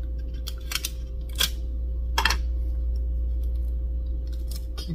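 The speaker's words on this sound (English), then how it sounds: "Fold that over, and you just take a piece of scotch tape." Scotch tape being pulled and torn off for a craft blood pack, giving a few short sharp snips and rips over a steady low hum.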